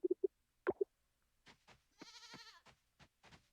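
Goats in the farming video game Coral Island bleat in a series of short, clear, nasal calls, one longer quavering bleat in the middle, alone against silence.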